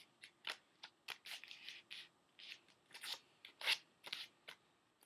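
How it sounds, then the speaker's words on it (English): A square of paper is folded in half into a triangle for a paper snowflake, giving quiet, close, crisp crinkles and rustles in short irregular bursts. "So what you do right after that is you fold it in half in this triangular"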